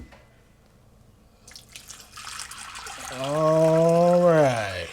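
Water pouring into a pot to soak red beans, starting as a faint trickle and rising to a louder, rushing fill whose pitch climbs as the pot fills, close by and without talk.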